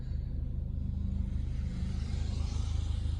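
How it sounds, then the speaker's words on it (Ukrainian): Cars passing by a stopped learner car on a city street, a steady low engine rumble throughout, moderately loud and continuous with no talk. "чекаємо, поки проїдуть люди на машине"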